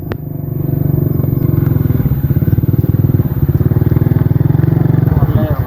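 A motorcycle engine runs close by while riding, a loud, steady low chugging with rapid regular pulses and a slight change in tone near the end.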